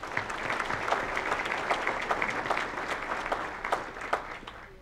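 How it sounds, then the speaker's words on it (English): Audience applause for the caterers at a county State of the County address, a steady patter of clapping with some sharper claps standing out, moderately loud throughout. "a big round of applause, if we will, for our caterers,"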